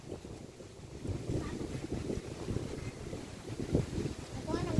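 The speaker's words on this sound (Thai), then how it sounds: "เบิ่งลมเบิ่งลม" Wind gusts outdoors on a cold day, a steady rumbling buffet against the microphone with no clear voices over it.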